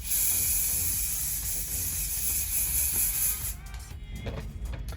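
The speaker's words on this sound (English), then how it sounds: "Just spraying the roots." Hairspray hisses from an aerosol can onto the hair roots in one long, continuous burst, close and steady, then cuts off, leaving quieter rustling handling sounds.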